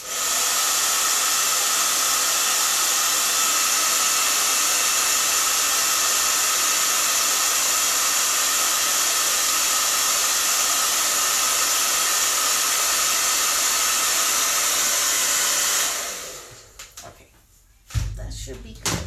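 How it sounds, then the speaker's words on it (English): A hair dryer blows hot air over a craft transfer, a loud steady hiss and whoosh running unbroken for about sixteen seconds before it clicks off, followed by faint handling noises. "I'm actually going to hit it with the hairdryer, just an extra precaution, just to dry it off."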